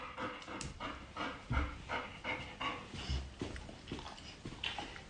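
A trained dog pants steadily in quick, rhythmic breaths, close and fairly soft, with no speech over it.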